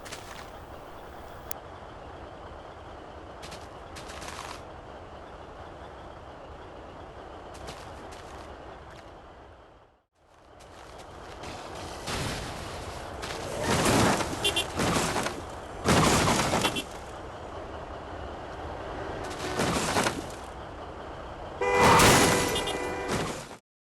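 Repeated gunshot bursts from a guns add-on in Minecraft PE, sharp cracks clustered in loud volleys with short gaps, set against a steady game ambience and a brief drop to near silence midway.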